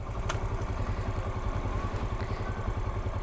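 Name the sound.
manual motorcycle engine at clutch biting point in first gear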